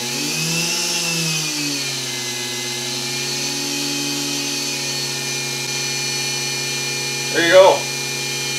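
DC spindle motor on a CNC lathe setup running at about 8,100 RPM, a steady high-pitched whine and hum throughout, with a brief spoken phrase near the end.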